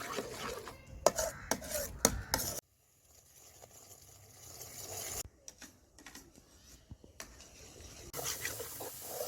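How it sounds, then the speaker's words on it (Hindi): Walnut halwa stirred constantly in ghee in a pan: bursts of scraping and rubbing from a spoon against the pan, separated by quiet stretches, fairly soft and close. "अब इसी तरह इसको पकाते जाना है मुसलसल हिलाते हुए जब तक ये घी ना अच्छी तरह छोड़ दे।"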